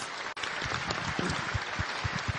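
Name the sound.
audience applause at opening ceremony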